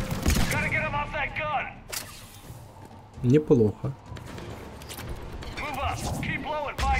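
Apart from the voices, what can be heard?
gunfire in video game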